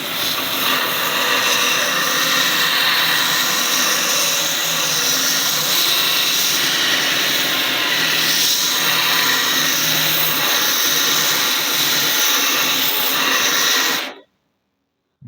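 A chipped knife edge being ground flat on a powered sharpening tool, a loud steady whining grind with a dense rasping hiss that holds for about fourteen seconds and then stops abruptly.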